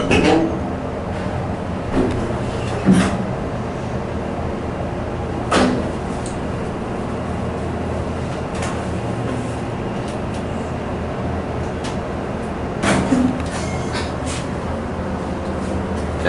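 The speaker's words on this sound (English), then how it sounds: "listen to the motor." Older Otis Series 1 elevator running rough at a hotel in Orlando, a steady low mechanical hum and rumble with occasional clunks and knocks from the car throughout.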